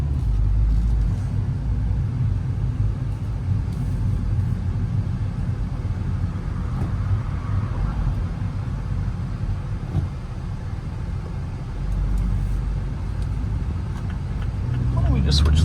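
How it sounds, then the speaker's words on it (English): A 2024 MINI Cooper S Convertible with a manual gearbox drives along, its 189-horsepower BMW turbo four-cylinder engine blending into a loud, continuous road and cabin rumble that swells slightly near the end. "Classic BMW Turbo 4 right there."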